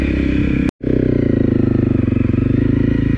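A 2018 Honda CRF250L dual-sport motorcycle rides off road, its single-cylinder engine droning loudly and steadily up close with a fast, even pulsing chug, broken only by one very brief dropout early on.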